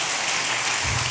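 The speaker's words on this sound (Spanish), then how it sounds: "Dale fuerte el aplauso al Señor, hermano" A church congregation claps together during a sermon, a dense continuous patter of hands at moderate loudness, brief and without voices.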